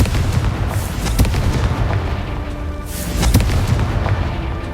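Confringo fire spell explosions in the Hogwarts Legacy video game, loud dense booming blasts with sharp pops layered over a continuous rumble, close and heavy throughout.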